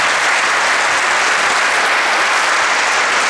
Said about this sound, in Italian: fate un applauso alla mia squadra, alzatevi in piedi, consiglieri